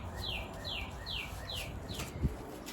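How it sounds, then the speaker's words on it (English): Several short bird chirps repeat evenly outdoors over a steady wash of background noise, fairly faint and distant, with one brief low thump near the end. "You hear the birds chirping."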